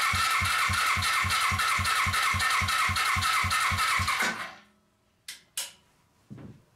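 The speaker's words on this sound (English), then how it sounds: "I heard that you're supposed to crank it over until it stops moving" Suzuki GS500 motorcycle engine cranking over with the throttle held open during a compression test, a loud, steady rhythmic churning of even compression pulses that stops abruptly, followed by a few soft clicks and knocks.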